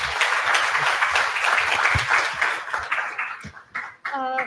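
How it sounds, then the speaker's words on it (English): A conference audience applauds dignitaries at a maritime monitoring event, a loud, dense burst of clapping that thins out after a few seconds, followed by a voice speaking at the end. "Please give Her Excellencies a huge round of applause."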